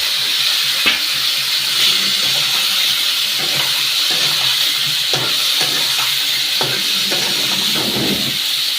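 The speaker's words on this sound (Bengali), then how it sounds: "ভালো মতো আলু বেগুনটা ভাজা ভাজা করে নিতে হবে তেলের মধ্যে।" Potato and eggplant chunks frying in hot oil give a steady, close hiss and sizzle, with occasional soft clicks of stirring and no talking.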